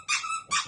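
A dog lets out two sharp, high yelping barks in quick succession, close and loud indoors, with no talking over them.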